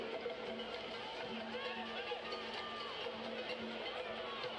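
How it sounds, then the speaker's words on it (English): Dense, steady roar of a boisterous stadium crowd at Estadio Rommel Fernandez during a Concacaf League semifinal soccer match between CD Plaza Amador and Club Deportivo Olimpia, a continuous wash of cheering and chatter with a faint steady tone underneath. "Still a boisterous crowd."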